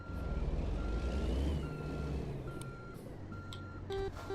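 Truck reversing beeps in American Truck Simulator, a regular series of electronic beeps over a low rumbling diesel engine, with a few sharp clanks toward the end and no talk.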